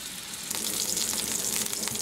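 A hamburger patty frying in a skillet, a steady, close sizzling hiss that holds evenly throughout, no voices.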